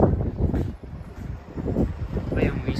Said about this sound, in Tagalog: Nasa bunganga na tayo ng vulkan, malapit. Lakas ng hangin dito.